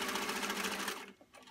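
A sewing machine stitches together a fabric car catch-all, running in a steady rapid whir that stops about two-thirds through, leaving a faint quiet tail with small handling noises.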